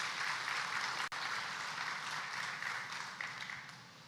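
Audience applause for the Prime Minister at the Caroni lease distribution ceremony: steady, dense clapping from a crowd, sustained and fairly even throughout, tapering slightly toward the end.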